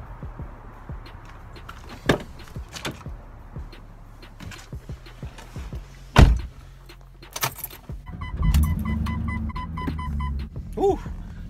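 Keys jangle and a car door thunks shut while getting into a 1999 BMW M Roadster, with scattered clicks and handling noises, a sharp door slam midway, then an engine-like rumble and electronic chimes near the end.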